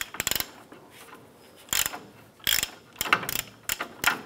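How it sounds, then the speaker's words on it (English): A hand ratchet clicks in short bursts while loosening a nut on the upper control arm of a 1994–2004 Chevrolet S10, sharp and close with pauses between strokes. "We're now gonna go ahead and remove that nut using our ratchet."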